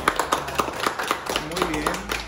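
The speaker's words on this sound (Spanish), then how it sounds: "Ustedes denle un aplauso" A class audience claps for a student presentation on human evolution, with a short round of close, rhythmic hand claps while a voice talks over it.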